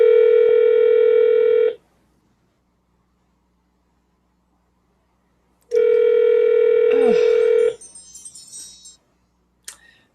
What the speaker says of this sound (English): It's ringing.